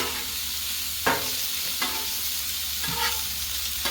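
Onions and peppers sizzle on a Blackstone griddle, with a constant frying hiss broken by a few sharp scrapes and taps of a spatula stirring the vegetables.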